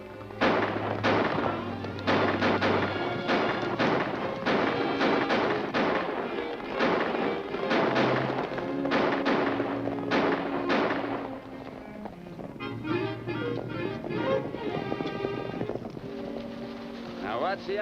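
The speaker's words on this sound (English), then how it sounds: "Let's go now, but don't shoot to hit him." Gunshots in a Western film, a rapid series of sharp cracking shots fired from horseback, loud and repeated over galloping hooves and a dramatic orchestral score, with shouting voices mixed in.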